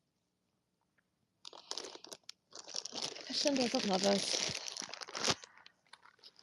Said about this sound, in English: That was the noise of me putting some lettuce back into the bag that it came out of.